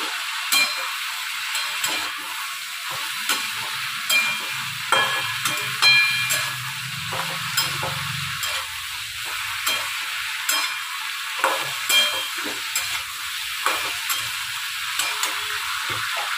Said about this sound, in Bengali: অনেকটা লাউটা অনেকটা ভাজা ভাজা হয়ে গেছে